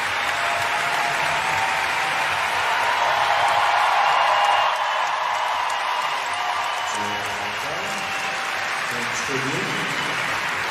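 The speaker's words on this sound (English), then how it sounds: "Is just a rousing crowd at a level that you only hear in the biggest moments of the CrossFit Games." A roaring crowd cheers at the CrossFit Games during a women's event heat, a loud sustained wall of noise that swells and then eases, with commentators talking over it.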